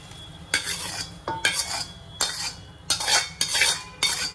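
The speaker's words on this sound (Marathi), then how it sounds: "हे सगळं चमच्याने नीट हळूहळू सगळं मिक्स करायचं" A spoon mixes oven-made thin poha chivda with peanuts, coconut, onion and masala, giving a series of uneven scraping, rattling strokes against a dish, close and separated by brief pauses, with a faint sizzle underneath.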